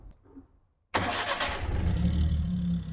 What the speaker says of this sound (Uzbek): Mashinamizni ovozlarini bir eshitib ko'ringchi